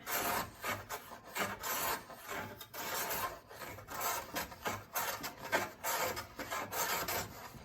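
Wood being trimmed with a shallow-set cutting tool during boatbuilding, a steady rasping, scraping stroke repeated in an irregular rhythm, fairly faint and close, with no talking.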